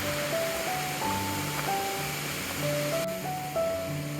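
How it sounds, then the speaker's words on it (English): Rushing water of Narada Falls at Mount Rainier National Park, a steady broadband roar heard from a viewpoint, with sustained melodic tones layered over it throughout. "But I want to see the beautiful waterfall and show it to you guys."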